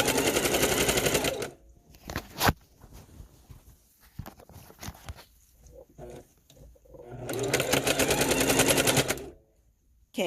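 A sewing machine quilting a small baby quilt runs in two loud, steady bursts at the start and end, with quieter handling clatter and shuffling between the runs.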